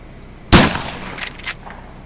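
A gunshot in the survival video game Survive the Nights: one sharp, loud crack followed by a couple of fainter, quick bursts that trail off, with no speech.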